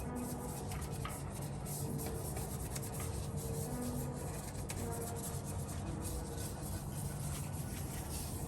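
A small detailing brush scrubs repeatedly at a Tesla Model Y Performance during a rinseless wash, giving a steady, close rasping rub that carries on without pause and with no talk.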